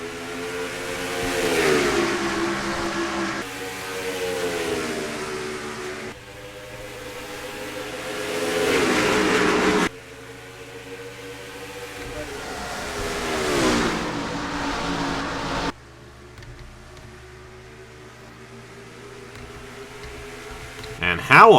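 Race cars roar past in repeated waves at the green flag start of the Nemours Children's Health 200 at Dover, Delaware's Monster Mile, with engine pitch rising and falling as each pack sweeps by, while commentators talk over the noise.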